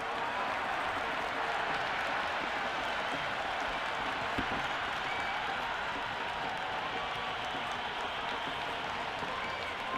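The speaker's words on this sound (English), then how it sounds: "The crowd are loving every minute of this match." Dense, steady applause and cheering from a large cricket crowd at an India vs South Africa T20 match, a continuous broad roar of clapping lasting throughout with no pauses.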